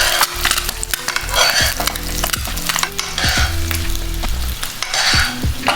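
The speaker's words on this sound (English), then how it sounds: "just spoon that hot oil on top of the egg white" Hot oil spooned over an egg white frying in a pan, a loud steady sizzle with repeated scraping strokes of the spoon against the pan throughout.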